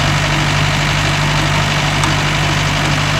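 A Mahindra Arjun Novo 605 DI tractor engine runs in a coconut grove, a loud, steady, close diesel idle with a deep continuous throb and no break throughout.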